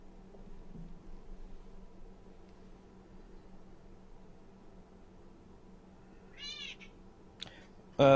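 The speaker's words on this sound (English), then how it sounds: "It's a typical tabby cat." An eight-year-old tabby cat gives a couple of short meows near the end, following a long stretch of quiet room hiss and soft background hum.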